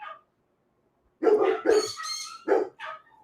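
Dogs bark indoors in a short cluster of close, loud barks with brief gaps between them, after a moment of silence.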